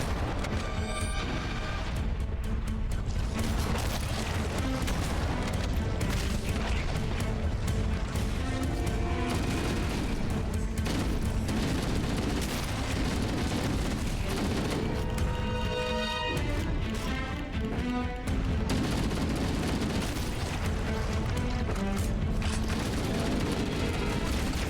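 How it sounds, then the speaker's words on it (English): Shotgun and weapon fire in Halo: Combat Evolved, the Library mission with Flood enemies: loud, continuous game combat with repeated blasts, crashes and rattling gunfire layered throughout, no talk. "The flood shotgun killed me."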